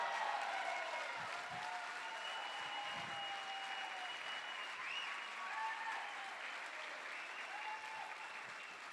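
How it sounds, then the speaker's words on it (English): Sustained audience applause at a charity rescue gala fills the room steadily, a dense wash of clapping with faint cheers and whistles rising over it, continuing without a break. "let's give Tom a nice round of applause"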